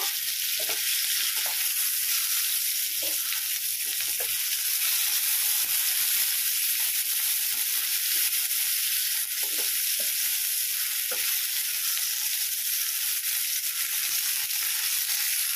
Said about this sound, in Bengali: এবারে তার মধ্যে দিয়ে দেব সজনেগুলো, দিয়ে দিচ্ছি। এগুলো হালকা ভেজে নেব।